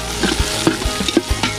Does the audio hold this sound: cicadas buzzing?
no